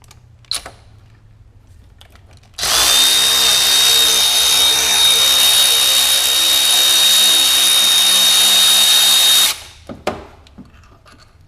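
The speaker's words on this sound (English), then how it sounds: "That's the other problem with this wrench is that you can only reverse it from the head." A power wrench backs out bolts while pulling the engine from a Porsche 944 rally car with a V8, one loud continuous whirring burst of about seven seconds with a steady whine, quiet before and after.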